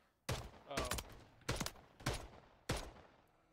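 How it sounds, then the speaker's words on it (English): An enemy player fires on a rooftop in a 2v2 shooter match: five sharp bursts of gunfire crack at irregular intervals over a few seconds, each ringing briefly before fading. "Those bullets passed right next to me."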